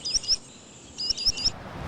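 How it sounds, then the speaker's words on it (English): A spotted sandpiper calls near lake waters in Vermont: two quick bursts of high, thin piping notes, a pair and then a trio, clear and fairly close against quiet background. "It's a spotted sandpiper."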